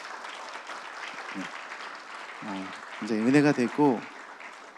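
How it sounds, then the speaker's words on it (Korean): Church congregation applauding the late-night worship team at a Friday evening service, a steady broadband clapping wash under a voice that grows louder toward the end. "우리 심야 찬양팀 이제 수고하셨다고 박수 한 번만 쳐드리십시오."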